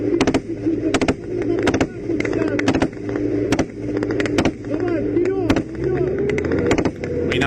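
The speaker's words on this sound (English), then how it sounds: "We now hear the Bradley's engine spooling up as the M2 begins to roll on forward." A Bradley M2 fighting vehicle's engine rumbles and rises in pitch amid war combat footage, under repeated sharp bangs and clatter, with someone talking throughout.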